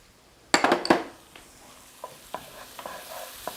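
Thyme is stirred into a sizzling seafood dish in a pan, opening with a burst of loud spoon-on-metal clatter, then quieter scattered taps over a faint sizzle.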